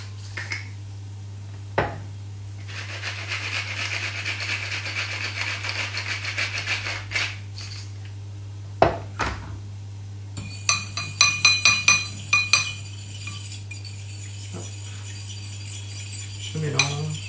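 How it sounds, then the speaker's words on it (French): Whisking a sauce of sesame oil, maple syrup, salt and pepper in a glass bowl gives rapid clinking and scraping, with a steady swirl of strokes and then a quick run of bright taps, all close over a low hum. "Je mélange et je le garde de côté."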